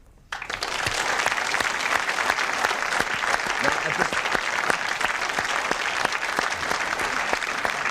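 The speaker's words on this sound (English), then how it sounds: "could we please now have a round of applause for the suspects?" A studio audience applauds the suspects at a whodunnit panel show set in a grand house, a steady, dense burst of clapping that starts abruptly and holds loud and close for several seconds.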